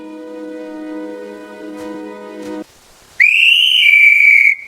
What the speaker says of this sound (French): Utilise ton sifflet pour m'aider.